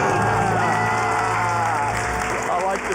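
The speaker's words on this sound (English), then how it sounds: "Let's hear a debt-free scream." A crowd cheers and screams together in a loud, dense burst after a countdown, celebrating becoming debt-free, with a voice carrying over the roar.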